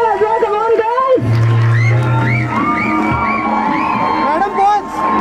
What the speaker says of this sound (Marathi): टाळ्या वाजत राहिल्या पाहिजे. कमॉन. शिट्ट्या बिट्ट्या वाजवा.